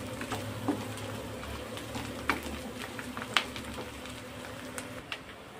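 Ginger garlic paste frying in a pan while being stirred, a low steady sizzle broken by a few sharp clicks and scrapes of the spoon against the pan.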